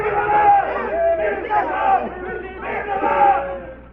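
Troops in a radio drama raise a loud crowd cheer and battle cry that swells and falls in repeated surges, several voices shouting together at a steady, rousing level.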